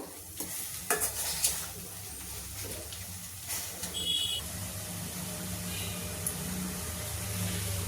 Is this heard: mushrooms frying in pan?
yes